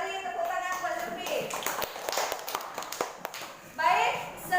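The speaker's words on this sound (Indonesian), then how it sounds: "beri tepuk tangan buat Zulfi" Brief scattered clapping from students in a classroom for a classmate, a loose smattering of hand claps mixed with children's voices talking over it.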